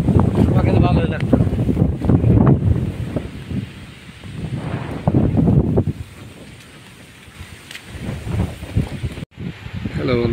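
Strong, gusty wind sweeping across open countryside with rice fields before a Kalbaishakhi storm, buffeting the microphone with a heavy roaring rumble that eases briefly before surging again.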